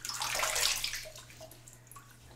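Cold water splashes from a full sink as a face is rinsed during a wet shave, a close, brief burst of sloshing and dripping that fades into quiet trickles.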